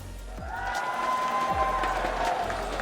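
An arena crowd at the IEM Dallas CS2 esports event, Vitality versus Spirit, keeps up a dense, sustained roar of cheering and chanting at a steady loud level throughout.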